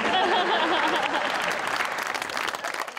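A live audience claps in a dense, loud burst of applause lasting about three seconds, with no talking over it.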